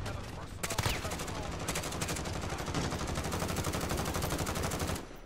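Sustained rapid gunfire in the video game Modern Warfare from a Grau 5.56 rifle, a loud automatic burst of evenly spaced shots that runs for about four seconds before cutting off.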